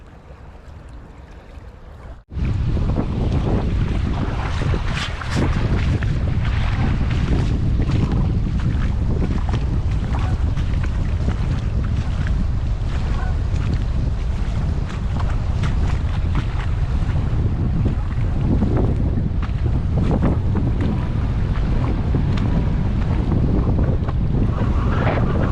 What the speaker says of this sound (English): Too much wind for them.